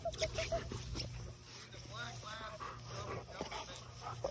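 On a walk, a dog whimpers and gives small yips amid background noise, fairly faint, while people talk nearby.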